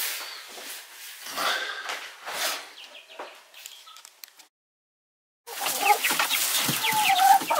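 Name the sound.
chicks cheeping, being carried to the henhouse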